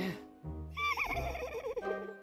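A high, wavering whinny rises over a low droning background, loud and close, with a brief murmur of voice near the start.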